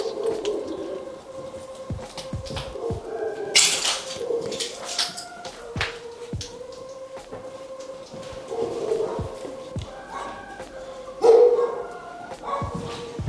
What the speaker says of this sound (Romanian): Un alt loc, un alt concert al câinilor